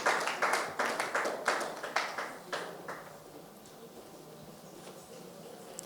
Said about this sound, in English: So let's give Taiwo a special round of applause.